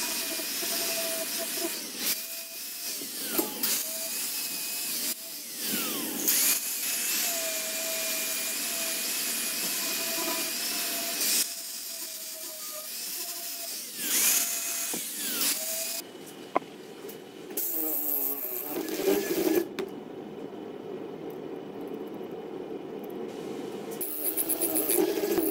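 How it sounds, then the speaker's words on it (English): Angle grinder with a flap disc smoothing down a weld on scrap steel for a folding exercise bench, a steady hissing, whirring grind that runs near and loud for most of the stretch, easing briefly and then returning with a rougher, shifting tone. "So we just hit it with a grinder and smooth it out."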